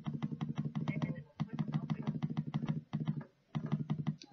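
Loud computer keyboard clicking in rapid, steady bursts, with brief pauses between runs of keystrokes, close to the microphone during a Lumber Tycoon 2 gaming session.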